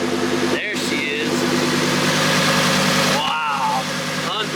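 A Lamborghini Huracan Evo's V10 idles loudly nearby in a steady, rough hum, with people talking over it and brief engine swells between their voices.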